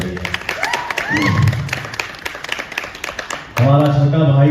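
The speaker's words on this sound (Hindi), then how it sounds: "एक जोरदार ताली हो जाए" An audience at a song-promotion event in Lucknow breaks into scattered applause, claps pattering under voices, before loud music suddenly kicks in near the end.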